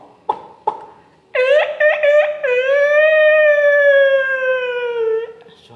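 After a couple of sharp taps, a human voice imitates a tiger with one long, drawn-out roaring howl of about four seconds. It is close and loud, with nothing else behind it.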